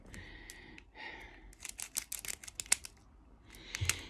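Small scissors snip repeatedly through plastic bags of diamond-painting drills, a quick series of crisp close cuts with soft breathy sounds and rustling around them.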